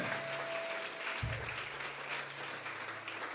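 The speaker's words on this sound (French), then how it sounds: "Est-ce qu'on peut acclamer pour la parole de Dieu?" A church congregation breaks into brief, fairly faint applause, a soft wash of clapping that rises around the middle and settles back into room hum, with no one speaking.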